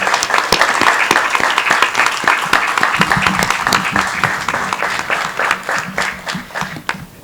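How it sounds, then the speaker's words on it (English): Graduation ceremony audience applauding families and parents, loud sustained clapping from a large crowd that thins and turns more scattered toward the end. "give them a round of applause for everything they do for you"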